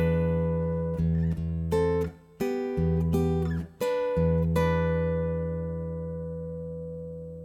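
A guitar plays the opening bar of a song, with a few ringing chords and plucked bass notes in high positions. The tones are clear and close, with short gaps between them, and the final chord rings out and fades slowly.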